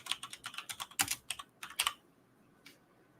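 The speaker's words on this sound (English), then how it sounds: "Why am I typing fragrance by search bar?" Quick bursts of keystrokes on a computer keyboard while typing into a search bar, a dozen or so crisp close clicks in an uneven rhythm, then a pause and one last tap.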